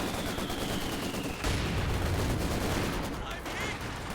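Gunfire in Company of Heroes 2 battle, a dense stretch of rapid shots and machine-gun bursts, loud and continuous with crackling impacts and unit voices mixed in.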